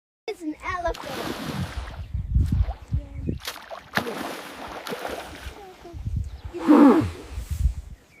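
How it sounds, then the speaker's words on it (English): An elephant sounds a series of low, rumbling, harmonic calls in separate bursts, with a louder, brassier call near the end, all close and prominent. "It's an elephant."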